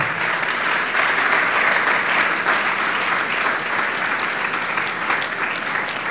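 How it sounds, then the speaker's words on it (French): A church congregation gives sustained, loud applause to praise the Lord, a dense steady wash of clapping that holds for several seconds with no speech. "On acclame très fort pour le Seigneur."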